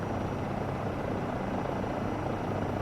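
A Eurocopter EC135 helicopter in Microsoft Flight Simulator 2024 hovers and moves slowly over a town, its rotor and turbine giving a steady, dense, close drone with a constant rumble and no pauses.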